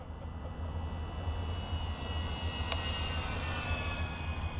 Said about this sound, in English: All they gonna hear on the GoPro is this drone